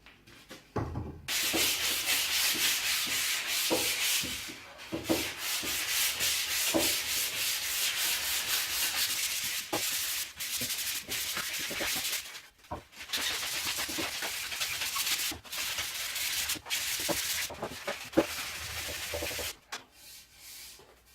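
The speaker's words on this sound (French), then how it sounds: "une fois le rabotage fini, maintenant je vais passer au ponçage" A freshly planed wooden buffadou, a fireplace blowing tube, is sanded by hand with long, continuous rasping strokes, close and fairly loud, with a few short pauses between passes.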